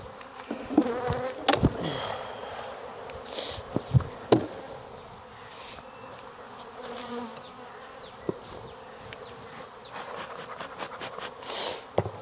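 Honey bees buzz around opened hive frames at a Jacksonville, Florida apiary, a steady close swarm hum with individual bees zipping past the microphone and a few faint knocks of frames being handled.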